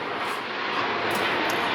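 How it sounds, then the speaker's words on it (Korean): A low-flying airplane roars loudly over a residential area, a steady broadband engine rumble that holds throughout without speech. "오늘도 주택가에 이렇게 비행기가 시끄럽게 뜨지요. 정말 시끄럽습니다"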